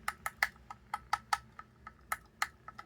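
Quick, uneven plastic clicks of an Xbox Series X/S controller trigger with no cover, pressed repeatedly without sticking, close up and fairly quiet, with no voices.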